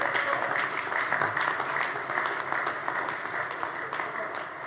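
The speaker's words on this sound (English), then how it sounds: "Please, let's give her a round of applause" An audience at a bank's annual general meeting applauds, a steady sustained patter of many hands clapping that holds level throughout.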